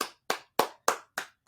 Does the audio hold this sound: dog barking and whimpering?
no